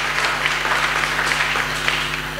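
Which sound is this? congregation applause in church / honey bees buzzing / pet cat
congregation applause in church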